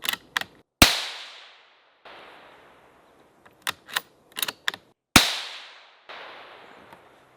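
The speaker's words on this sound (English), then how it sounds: "Oh yeah, I'm hitting it. The bullet's just zipping through it." A .22 Magnum rifle fires during a deer hunt in Alabama: two sharp, loud shots each ring out and decay, with several quieter clicks and knocks of the rifle being handled in between.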